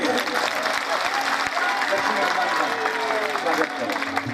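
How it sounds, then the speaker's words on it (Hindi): Audience clapping at a Bhagwat Katha religious gathering, a dense, sustained wash of applause from a large crowd filling the whole stretch, with a voice heard over it. "सब लोग ताली बजाते हो प्रेम से।"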